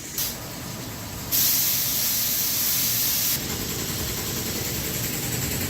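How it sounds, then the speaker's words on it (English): A spray gun shooting high build primer in a paint booth, with loud continuous hissing bursts that start and stop over a low mechanical hum from a nearby compressor. "that was Lee shooting some high build primer"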